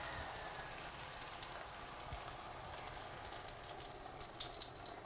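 Pancake batter hits a hot pan greased with coconut oil for a Dutch baby, giving a steady, close hiss and sizzle that runs evenly throughout with no voices.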